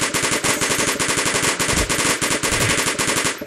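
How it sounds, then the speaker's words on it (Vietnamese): Machine gun in the game Kick The Buddy fires in loud, rapid, evenly spaced bursts for several seconds, then stops abruptly. "Súng xả đạn mọi người."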